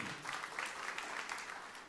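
A church congregation clapping steadily and enthusiastically during a sermon, a continuous patter of many hands at moderate volume.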